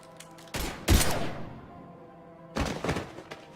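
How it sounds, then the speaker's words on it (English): Gunfire in the Mass Effect 3 video game: two heavy bursts of shots, one at about half a second and a stronger one just after, then a second volley near the end. Between and around the bursts, a quieter ambient game background hums. "Now open fire!"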